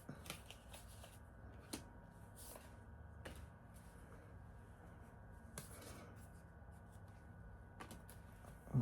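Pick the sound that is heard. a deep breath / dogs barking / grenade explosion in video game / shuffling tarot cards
shuffling tarot cards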